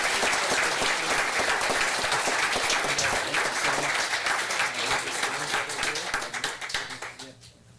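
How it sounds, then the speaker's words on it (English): A community audience gives a sustained round of applause, dense and loud at first, then thinning out and fading toward the end as the clapping dies away. "So give them one more round of applause"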